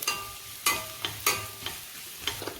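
Chopped green chillies, garlic and spices frying in a pan for potato kachori filling, with a spoon scraping and stirring in several sharp strokes over a faint steady sizzle.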